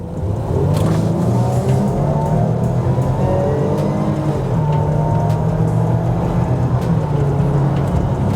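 A Land Rover Discovery 5 with a 3.0 petrol engine accelerating hard on a highway, a steady engine drone with rising tones and road noise heard from inside the cabin, without speech.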